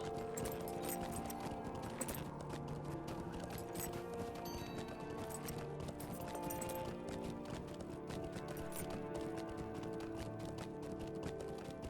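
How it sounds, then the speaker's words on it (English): Horse hooves clop while riding in the video game Lord of the Rings Online, a quiet, steady run of rhythmic clip-clop hoofbeats over a low musical game soundtrack, with no talking. "let me dismount over here and do the rest with my own horse"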